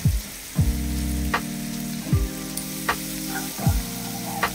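Ginger-garlic paste frying in a pan with Kashmiri red chili powder for chicken changezi, a loud, close, steady sizzle broken every second or so by sharp stirring bursts, with no voices.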